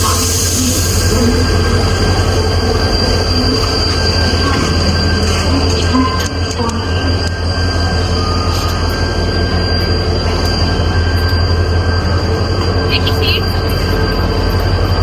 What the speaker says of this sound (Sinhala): මගේ පළවෙනි ගමන තමයි මේ වගේ කෝච්චි එක.